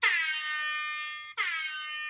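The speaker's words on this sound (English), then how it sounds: "we would use this air horn for like just funny moments over walkie-talkies" A phone app plays an air horn, two loud blaring blasts, the first long and the second shorter, back to back with a brief gap and no other sound.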